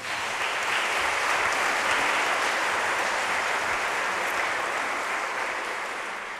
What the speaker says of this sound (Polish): więc należą im się jeszcze raz brawa.